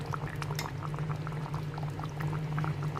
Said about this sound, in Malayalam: ഇനി ഇത് ചെറുതായിട്ട് ഒന്നുകൂടി ഒന്ന് തിളക്കട്ടെ